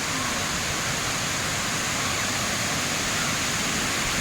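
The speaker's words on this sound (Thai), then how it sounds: "ฟังเสียงเลยค่ะเป็นเสียงน้ำตกที่ แผ่กระจายเหมือนสายทองคำ" A steady, dense roar of falling water fills the whole clip, loud and unbroken like a nearby waterfall, at Wang Sai Thong Waterfall in Satun, Thailand.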